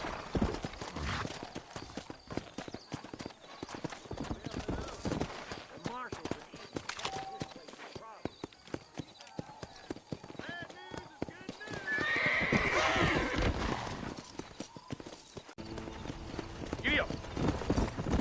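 Horse hooves clip-clop steadily through the trail ride in Red Dead Redemption, with an occasional neigh and light western music, while people talk almost continuously over the hoofbeats.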